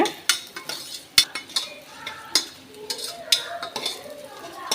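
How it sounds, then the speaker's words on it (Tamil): Moong dal roasting in ghee in a pan, with a soft sizzle broken by sharp, irregular scrapes and clinks of a spoon stirring against the metal, close and fairly quiet. "கால் கப் பாசி பருப்பு எடுத்துக்கோங்க இந்த நெய்யில் வறுத்து எடுத்துக்கலாம்"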